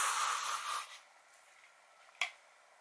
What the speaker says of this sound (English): I'm going to do is put the hairspray again on your face